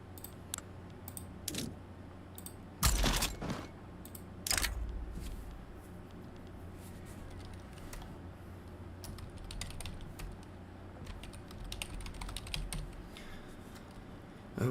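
Rapid keystrokes clatter on a computer keyboard during a strategy game, a steady close tapping with two louder bursts early on and no talking.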